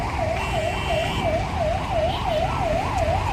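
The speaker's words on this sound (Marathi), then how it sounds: "ॲम्ब्युलन्स रुग्णवाहिका ही सुद्धा या ट्रॉफिकमध्ये अडकली गेली" An ambulance siren wails in a fast, regular rising-and-falling cycle, loud and continuous, while stuck in a traffic jam on Ghodbunder Road, Thane, over a low rumble of idling traffic.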